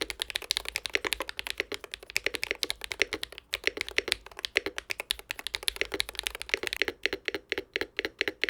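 Rapid typing on a Hall effect keyboard fitted with Gateron Jade Pro switches and two silicone dampening layers, crisp clacky keystrokes in fast irregular bursts, close and clear with no talking.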